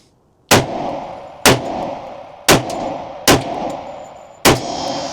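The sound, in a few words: 10mm Smith & Wesson M&P Carry Comp pistol firing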